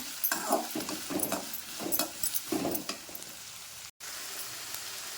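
Potato pieces are stir-fried in a pan, with soft sizzling and irregular bursts of spatula scraping and tossing at a moderate level, followed by a short break and then a quieter steady fry.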